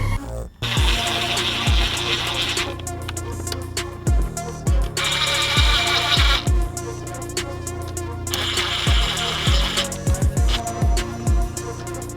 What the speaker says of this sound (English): So once you get them all started, we're gonna run these screws down, snug them up.